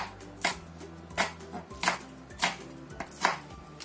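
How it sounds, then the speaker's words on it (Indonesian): Bird's eye chili is chopped into small rounds on a board, giving about six crisp knife taps at a steady, unhurried rhythm. They sound close and clear with no talking. "Ini kita potong kecil-kecil aja seperti ini. Potong bulat-bulat."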